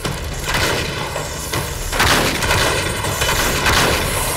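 Gunfire in Uncharted 3 (Nathan Drake Collection on PS4): a dense, steady barrage of shots and booming impacts, loud and close, continuing without a break.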